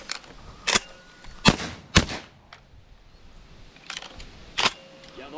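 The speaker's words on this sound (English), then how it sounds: "I missed like 6 shots in a row." Shotgun blasts while hunting pigeons at grain bins in North Dakota: about six sharp, loud reports spaced irregularly across a few seconds, with quiet outdoor air between them.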